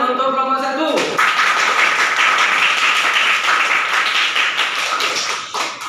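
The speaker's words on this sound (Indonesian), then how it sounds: "Tepuk tangan untuk kelompok 1." A classroom group applauds after a student group's presentation in an Islamic studies lesson, the dense clapping starting abruptly and holding steady, close and loud, for several seconds, with a brief voice heard just before it begins.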